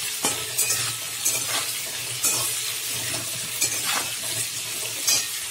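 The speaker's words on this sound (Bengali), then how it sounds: "এই ভালো করে আমি সবজিটা এবারে কষিয়ে নিচ্ছি।" Vegetables with salt and a little turmeric stir-fry in a pan, a steady sizzle broken by repeated scraping stirs at a close, even rhythm.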